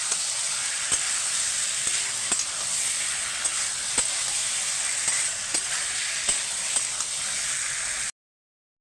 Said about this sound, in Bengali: এখানে আমার কষানো হয়ে গেছে